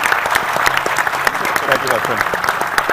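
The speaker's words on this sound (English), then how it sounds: "Let's give him a round of applause." Audience applause at the finale of an infrastructure vision challenge, a steady wash of clapping that runs the whole time under a voice thanking someone.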